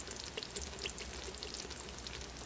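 A tablespoon of fish sauce trickles into an Instant Pot as a faint, continuous patter of small drops and splashes, soft and close.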